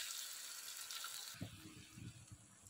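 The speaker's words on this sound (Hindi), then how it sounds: "अब इसमें पानी डालते हैं।" Water from a glass is poured into a pan of mutton aloo keema with green chillies, a soft gushing splash after a stretch of quieter hiss, close by and with no talking.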